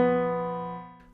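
A single sustained chord or cluster of notes from the Locrian mode, lacking a perfect fifth, rings with rich overtones and decays smoothly over about a second, with no talking.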